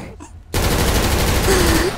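Gunfire erupts in a shootout in GTA5, a sudden loud burst after a brief quiet lead-in that continues as dense, sustained shooting and noise.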